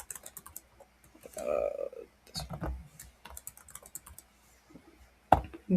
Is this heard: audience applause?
no